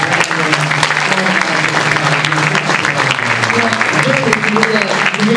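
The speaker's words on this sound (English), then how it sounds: "Everybody, can we get a round of applause for all the people?" Loud, dense audience applause at a Voltron convention panel at NYCC 2012, sustained clapping from a large crowd with voices murmuring and calling out underneath throughout.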